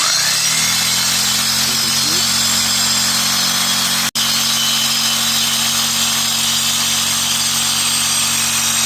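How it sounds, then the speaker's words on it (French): A jigsaw fitted with a metal-cutting blade runs steadily for several seconds with a harsh, buzzing whine as it cuts through metal, broken by one abrupt momentary stop partway through. "je vais y aller à la scie sauteuse avec une lame à métaux"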